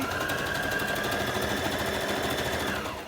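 A domestic sewing machine runs continuously through fabric doing reverse and zigzag stitches, a loud, rapid mechanical rattle that holds steady and winds down at the very end.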